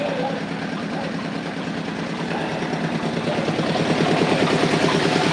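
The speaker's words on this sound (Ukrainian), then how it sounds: "Зараз піду покажу, як виглядає генератор в роботі" A homemade generator runs steadily during a power outage, a continuous loud engine drone with a fast pulsing throb that grows slightly louder as the source is approached outdoors.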